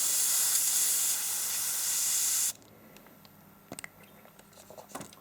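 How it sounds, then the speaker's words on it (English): Airbrush backflashing matte varnish in its cup with a drop of retarder, a loud steady spray-like hiss for about two and a half seconds that cuts off abruptly, followed by quiet faint clicks and small handling noises. "I want to backflash that in the cup, just so that it mixes up nicely"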